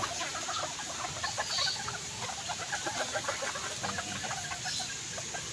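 Chicks wet from rain after a tree fell behind a house peep in a rapid, overlapping chorus of high chirps, fairly close and continuous, with no talking.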